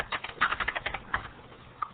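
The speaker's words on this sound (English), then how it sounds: "You can hear me typing, I'm sure." Rapid clicking keystrokes on a computer keyboard, a quick burst of typing followed by a few scattered taps, close and fairly quiet.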